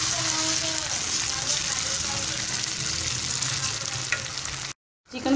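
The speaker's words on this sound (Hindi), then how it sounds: "सारा चिकन ऐड करने के बाद इसे अच्छे से मिक्स कर लेंगे।" Chicken stirred in a pan over a medium flame for macaroni pasta, giving a steady loud sizzle and frying hiss with stirring scrapes that stop abruptly near the end.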